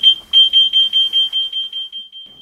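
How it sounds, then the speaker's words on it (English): A C-Tec conventional fire alarm panel's internal beeper chirps rapidly in a steady train of short, high tones, loud and close, slowly fading toward the end. "In a fire alarm condition, the panel's internal beeper will sound to inform you that an alarm has been detected."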